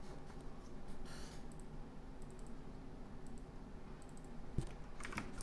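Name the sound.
typing on a computer keyboard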